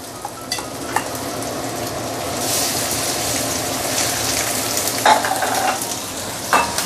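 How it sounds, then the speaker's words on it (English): Fish coated in turmeric powder pan-frying in hot oil gives a steady, close sizzle and crackle, with brief bursts of spattering and a few light clinks of a utensil against the pan. "you heat up your oil, then you can actually put in the fish"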